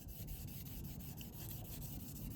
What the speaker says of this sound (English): I'm taking some dry sandpaper, 3000 grit, and rubbing these edges down one last time, very carefully